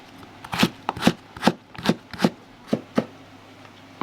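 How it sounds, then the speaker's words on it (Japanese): Knife chopping through lotus root on a board, about nine crisp evenly spaced cuts, close and clear with no talk. "もう一個レンコン切りますね。"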